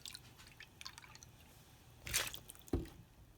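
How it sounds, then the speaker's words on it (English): Non-dairy milk poured into a bowl of vegan chocolate pudding cake batter, heard as two brief, soft liquid splashes and wet plops over a quiet background. "We're going to add 1/2 cup of your non-dairy milk"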